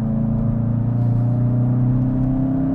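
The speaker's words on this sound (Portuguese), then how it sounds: "Eu vou ligar o modo esporte aqui, ó, para que o barulho mais forte invada a cabine do Jetta" Volkswagen Jetta GLI sedan engine in sport mode, a steady loud droning hum with strong low harmonics heard from inside the cabin, holding a constant pitch throughout with no talk.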